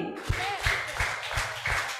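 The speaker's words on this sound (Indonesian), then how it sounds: "Tepuk 5 kali." Five sharp hand claps in an even, steady rhythm, loud and close, over a faint steady background hum, given as virtual applause during a Christmas church service.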